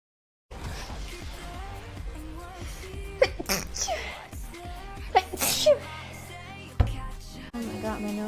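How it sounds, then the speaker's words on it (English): A person with allergies sneezes several times in a row, sharp loud bursts separated by sniffles and breathy sounds, with brief talk in between. "Oh god, I have to sneeze again."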